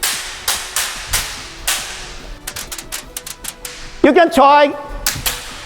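A kendo shinai is swung repeatedly, cutting the air with sharp, crisp swishes and cracks, some in quick bursts, while a person speaks briefly between strikes.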